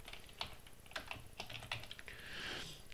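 A command being typed on a computer keyboard gives irregular, quiet key clicks in short bursts, close and soft, ending in a brief smeared rustle.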